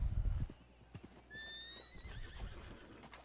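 In the Red Dead Redemption 2 video game, a horse whinnies with a rising, wavering neigh amid clip-clopping hooves and low rumbling background ambience, fairly quiet overall.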